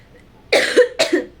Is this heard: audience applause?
no